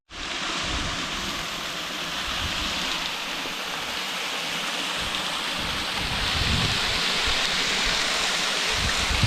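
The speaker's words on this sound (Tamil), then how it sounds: "இதுதான் வத்தல் மலை நீர்வீழ்ச்சி வாட்டர் ஃபால்ஸ் எல்லாமே இதுதான் அருமையான ஒரு வாட்டர் ஃபால்ஸு" Rushing water of the Vathalmalai waterfall in a forest setting, a steady dense roar that swells slightly louder toward the end, heard alone with no voices.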